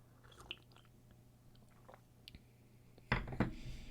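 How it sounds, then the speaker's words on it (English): Someone sips coffee close to the microphone, ending in a loud slurping sip after quieter small mouth noises. "I wonder how loud me sipping my coffee is for you guys."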